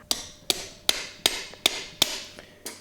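A screwdriver tapping a brake shoe retainer through its hole on the rear drum brakes of a Toyota Yaris, Echo or Corolla, heard as seven sharp metallic taps at a steady rhythm, close and loud with no talk.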